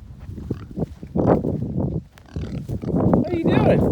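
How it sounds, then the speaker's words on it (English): Pigs grunt and snort up close in a backyard farm pen, with short irregular grunts over a continuous background and a person talking to them. "Pigs are here sleeping."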